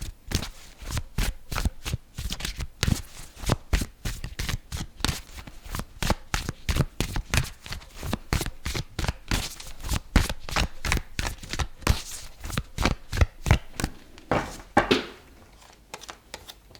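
Tarot cards are shuffled close by in a long, fast, steady run of crisp riffling slaps, loud and continuous before easing off near the end, with no voices.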